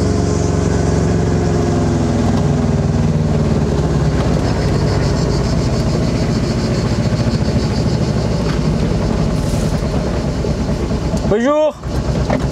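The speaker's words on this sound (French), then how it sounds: "Moi, je vais y aller en voiture sans permis" A licence-free microcar (voiture sans permis) runs with a buzzy, steady engine drone, close and continuous, a sharp rising whine near the end; a voice speaks at times over it.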